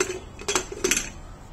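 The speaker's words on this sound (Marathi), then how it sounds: "कुकरचं झाकण लावून घ्यायचंय." A pressure cooker lid is fitted and closed on a kitchen pot with a few sharp metallic clacks and clicks, close and fairly quiet with no talk.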